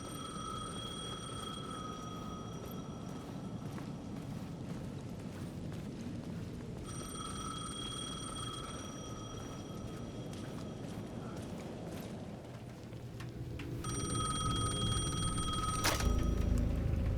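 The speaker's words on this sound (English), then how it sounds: "The payphone at the edge of the plaza was ringing again." A payphone at the edge of a plaza in the Alan Wake 2 video game rings in repeated electronic bursts of a few seconds each, separated by pauses, over a low rumbling ambient drone that swells near the end.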